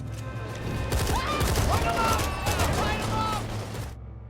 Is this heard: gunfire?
yes